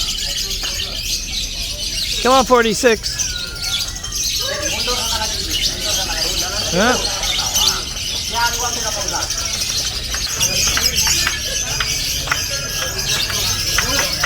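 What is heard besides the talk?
songbird chirping at an Indonesian singing bird competition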